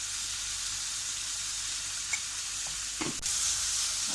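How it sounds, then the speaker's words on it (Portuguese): Vegetables sautéing in a pan with salt and colorau (paprika-like seasoning), a steady sizzle throughout with a few soft stirring scrapes and clinks near the end, no voices. "Agora vamos deixar refogar."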